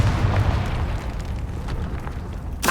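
A Confringo blast in Hogwarts Legacy sets off a deep, rumbling explosion with a low boom that decays slowly, then a sharp fresh burst at the very end.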